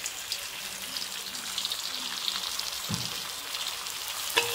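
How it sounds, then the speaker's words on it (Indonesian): Turmeric-coated beef frying in hot oil in a pan gives a steady, dense sizzle and crackle throughout, with a slightly louder spit near the end and no talking. "Okay, this time baru masak dia dengan minyak."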